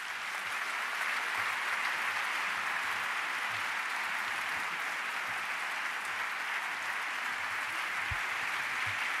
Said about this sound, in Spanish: por favor, un gran aplauso para Pedro Miguel Echenique